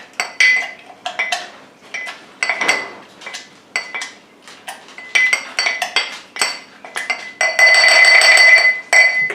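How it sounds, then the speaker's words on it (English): Lime and mint leaves crushed with a muddler in a glass, a run of repeated knocking clinks and grinding taps in uneven bursts, close and fairly loud with no talk, ending in a denser stretch of scraping. "Get the old muddler out. Crush everything up real nice. Get those juices out of the lime. Bruise up those mint leaves."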